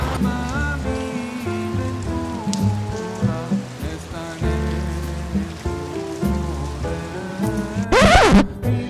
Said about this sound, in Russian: И вот нас отделяет дождь.